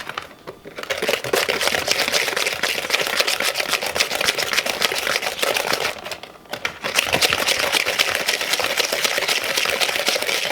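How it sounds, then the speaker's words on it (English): Granulated sugar being whisked in a bowl with a long-handled whisk for a toasted coconut cake batter, giving a fast, steady rattle of clicking strokes. The rattle breaks off briefly partway through, then resumes. "now I'm going to put a half a cup while I'm whisking"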